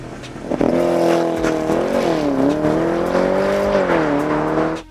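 A Porsche Panamera Turbo S E Hybrid in Sport Plus launches hard from a standstill under launch control, its engine note surging loud and close into a sustained, rising acceleration that holds strong for several seconds with no voices.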